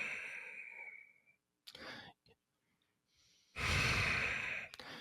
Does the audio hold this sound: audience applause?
no